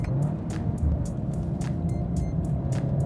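A tuned VW Golf 7R with an aftermarket intake, downpipe and plug-in power module, its engine droning loud and steady from close by, with a gentle rise as the turbo comes onto boost and a continuous, even roar throughout.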